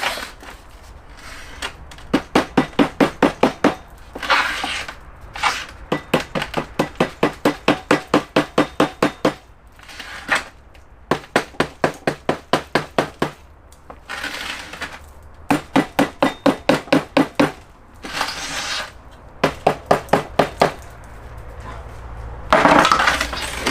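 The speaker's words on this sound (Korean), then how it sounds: "어느 정도 해놓고는 두드려서 뿌리 사이에 흙이 다 들어갈 수 있게끔." Soil is tapped down around the roots of a newly planted jujube tree. Rapid, sharp knocks come in repeated bursts of about a dozen each, separated by brief pauses, close and fairly loud.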